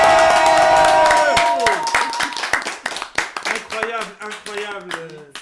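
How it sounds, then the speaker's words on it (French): Audience clapping and cheering for the best Beyblade blader of 2025 at a French awards show, a dense loud burst at first that thins into scattered individual claps, with an announcer's voice carrying through the applause. "Faut juste applaudir la performance de Ximor"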